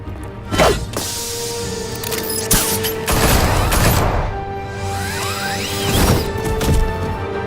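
Gunfire in Batman: Children of Arkham, game bursts of shots and impacts cracking through a busy action mix, several loud volleys spread across the stretch with a steady low hum beneath.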